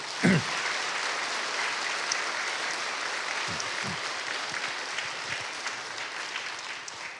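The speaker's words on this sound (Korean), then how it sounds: "여러분 박수를 한번 보내주십시오" A church congregation claps for newlyweds during a worship service, a broad, even wash of applause from a sizeable crowd, with a few low thumps near the start and middle.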